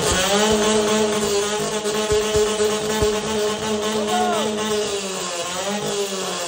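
Modified Honda VTEC car with exhaust problems, its engine loud and close, revving up and down through the exhaust in rising and falling sweeps with sharp pops.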